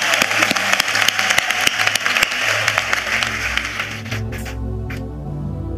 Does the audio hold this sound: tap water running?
no